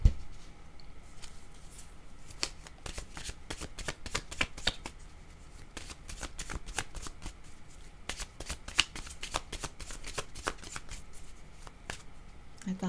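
Tarot cards shuffled by hand in a steady, continuous riffle of quick papery flicks, close and even throughout with no pauses.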